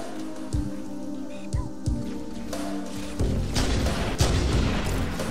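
Gunfire in Halo: Combat Evolved, several sharp booming shots spaced apart early on, followed by a denser burst of louder firing and blasts.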